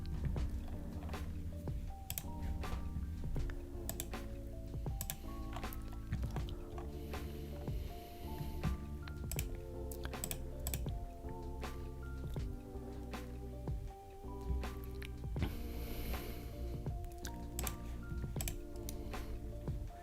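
Rapid, uneven keyboard typing clatters close by, sharp key clicks arriving in bursts over a soft background hum.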